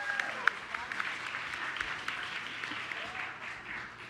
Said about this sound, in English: Can we have one more round of applause for our amazing students?